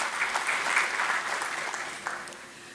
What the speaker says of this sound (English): Please give a huge round of applause for the winners.